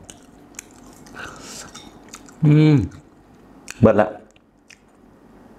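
Someone bites and chews tart tamarind dipped in shrimp paste, with two loud crunchy bites standing out among softer mouth sounds and a few spoken words.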